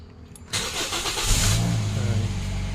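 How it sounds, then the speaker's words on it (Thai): A 2012 Toyota Vios engine cranks and catches, then settles into a steady, loud idle close by. "เดี๋ยวมาลองสตาร์ทฟังเสียงสักหน่อยนะครับ"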